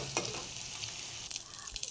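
Paneer pieces frying in hot oil in a kadai, a soft even sizzle with a couple of faint spatula clinks, no voices.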